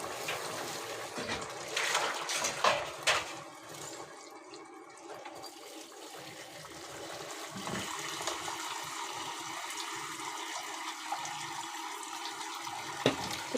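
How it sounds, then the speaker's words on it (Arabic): Hot water poured into a cooking pot while making bulgur kibbeh in red soup with vermicelli, a steady splashing, running pour close by that swells at the start and then continues evenly for over ten seconds. "شو راح اخلي المي الحار"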